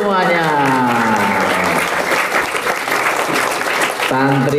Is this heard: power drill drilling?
no